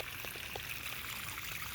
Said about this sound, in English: that is all dirty water coming out of the filter